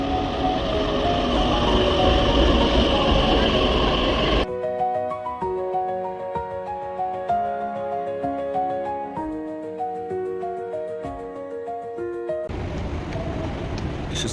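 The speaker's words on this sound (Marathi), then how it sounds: "This is the metro station." A metro train at the Civil Court underground station, five floors below ground, gives a broad roar that gives way to a rising and falling electric motor whine of stepped tones. The rushing noise then returns as the train moves.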